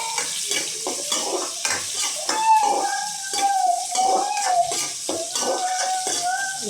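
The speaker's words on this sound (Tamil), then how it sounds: "20 பல் பூண்டு சேர்த்துக்கோங்க. நல்லா இப்போ வதங்கலாம்." Twenty cloves of garlic sautéing for a Tamil vatha kuzhambu, with steady oil sizzle, repeated spoon scrapes and clinks against the pan, and a faint tonal whine running through the middle.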